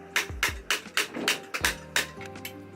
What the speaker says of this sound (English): Arun uses this tool and a hammer to pierce holes in them